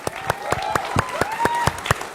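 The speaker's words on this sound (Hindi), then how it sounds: "तालियां जबरदस्त।" Distinct, fairly sparse claps from an audience in a televised debate studio, with individual sharp hand strikes coming roughly every quarter second over a soft background.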